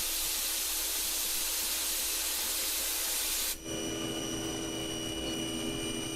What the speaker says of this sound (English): Now this is the small pocket being finished machined.